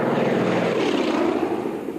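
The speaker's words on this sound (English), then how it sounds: "Overhead, vintage planes buzz the lake bed." Vintage propeller planes flying overhead above a desert lake bed, a steady loud droning engine buzz that shifts slightly in pitch as it passes.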